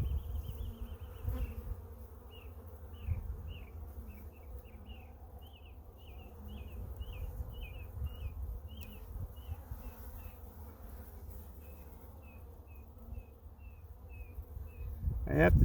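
Honeybees buzzing around an open hive during an inspection, a close steady drone with individual bees whining past in rapid succession, under low handling noise and a brief clunk at the end.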